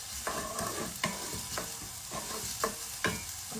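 Mushrooms and green peas sautéing in a pan, a close, steady sizzle broken by regular scraping stirs roughly every half second.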